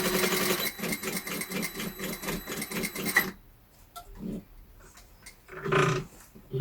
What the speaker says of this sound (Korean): 재봉틀을 해보겠습니다.